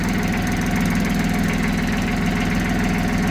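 Tractor engine idling after a month and a half standing unused, a close, steady diesel chug with even knocking pulses and no talk.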